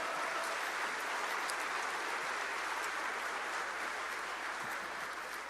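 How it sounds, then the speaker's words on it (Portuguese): Applause from a church audience celebrating women on Women's Day: a dense, steady wash of clapping that holds evenly throughout without pause or voices. "Um aplauso aí para as mulheres, vamos lá."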